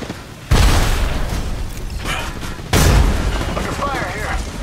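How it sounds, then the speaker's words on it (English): Grenade blasts in the Apex Legends Mobile video game: two heavy, booming explosions land a couple of seconds apart. Each is loud and close, followed by a rumbling, crackling tail amid ongoing gunfire. "Grenade incoming."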